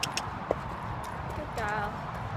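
A pony is walked on a yard, its hooves landing in a few faint, spaced clip-clops over a low background rumble, with a brief voice sound near the end.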